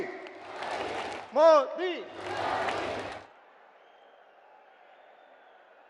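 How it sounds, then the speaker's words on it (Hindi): A large crowd at a public rally in Ajmer, Rajasthan, welcoming Narendra Modi with bursts of applause and cheering. The noise comes in two loud swells around a shouted chant of his name, then falls away to a quiet hum. "सब लोग ताली बजाकर उनका स्वागत करें।"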